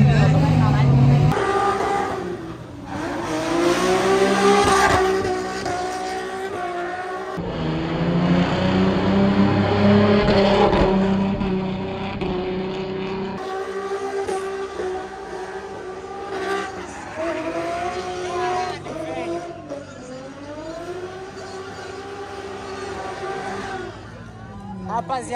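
A Nissan 350Z engine running and driving, revving hard in repeated rising and falling pulls with loud, close exhaust and shifts, while people talk over it.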